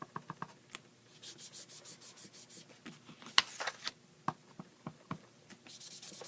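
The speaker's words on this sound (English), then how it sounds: "you're just going to rub just like you would with sponging" A foam sponge dauber rubs ink across designer paper in a resist technique, making soft, close scratchy strokes with light taps and brushing scrapes in an uneven rhythm, quiet and without talking.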